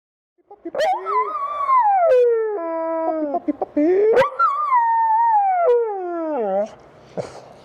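A pet dog lets out a loud, close, wavering howl, rising and falling through several long drawn-out notes with short breaks, then trailing off into a whimper.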